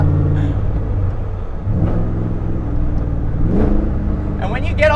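An old Corvette engine pulls hard in third gear from about 4,000 RPM, a loud continuous rumbling roar that climbs in pitch throughout, with brief voice-like sounds mixed in.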